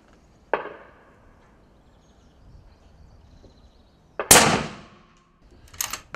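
Deer rifle being fired outdoors during scope sighting: two sharp, cracking reports a few seconds apart in near silence, the second louder and echoing briefly.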